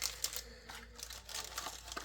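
Quiet, close crinkling of plastic in short irregular bursts, soft rustles and crackles over a faint low hum.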